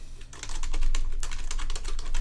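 Rapid clicking keystrokes on a computer keyboard as a file name is entered, a close, quiet burst of uneven taps with short pauses, no voices.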